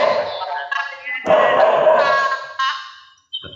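A dog barks and yips close by at night, a few loud overlapping calls that fade out, with talking mixed in.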